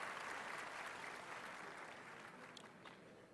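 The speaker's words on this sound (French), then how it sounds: "Applaudissez pour vous-même, parce que vous êtes déjà connectés." An audience at a Chad information and communication technology fair applauds itself with a steady, even wash of clapping that tapers slightly toward the end. It sounds fairly distant and quiet.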